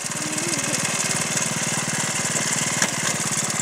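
A 1978 Honda Z50 mini trail motorbike's small engine running close by at a steady, fast putter, loud and even throughout, no voices.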